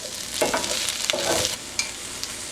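Sweet potato pieces sizzling and caramelizing in a hot pan, a steady close frying hiss broken by a few stirring scrapes and soft knocks.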